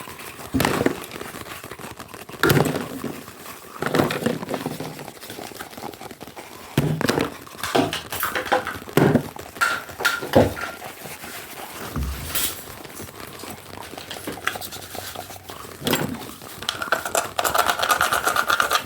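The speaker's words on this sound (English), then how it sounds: "Two empty pill bottles." Empty plastic pill bottles rattle and clatter close up in irregular bursts of clicks and knocks, with quieter handling noises between.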